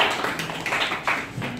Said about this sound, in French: Merci, applaudissez là.